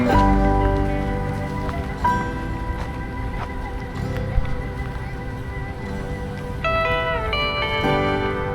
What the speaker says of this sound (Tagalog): umabot na nga talaga yung ulan dito